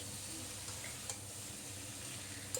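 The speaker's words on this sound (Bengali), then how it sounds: "এবার খুব ভালো করে নেড়ে চেড়ে দেবো" Vegetables for Bengali chhechra with turmeric and salt sizzling steadily in a pan on low heat while being stirred, a soft continuous frying hiss with a faint scrape or two, no talking.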